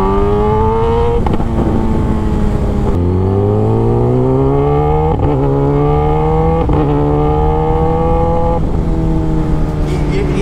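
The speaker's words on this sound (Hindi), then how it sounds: "बहुत पटाखे मार रही है जबकि अभी लो पावर मोड पे है।" A Kawasaki Z900 motorcycle ridden in low power mode, its exhaust revving up through the gears with rising engine whine, broken by sharp pops and crackles on each throttle change. It stays loud and close throughout.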